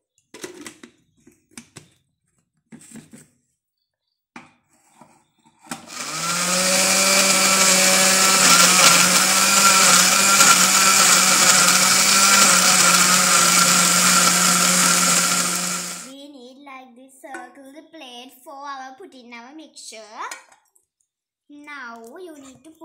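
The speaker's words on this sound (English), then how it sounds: "Now you need to put it to the blender. And you need to blend it." A blender whirring loudly and steadily for about ten seconds as pineapple is blended for a pineapple cake, with someone talking before and after it runs.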